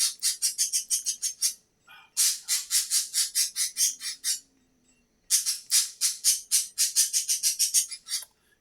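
A pet bird gives three bursts of rapid, shrill repeated squawks, loud and close, separated by short pauses, with no talking over them.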